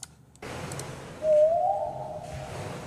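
Whale song plays in a deep-sea fear test: a single rising, wavering moan that swells and then fades, heard over a steady low background hum with no talking.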